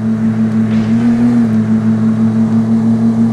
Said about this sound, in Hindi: गाड़ी अभी चल रही है तुम्हारी आंखों के सामने गाइस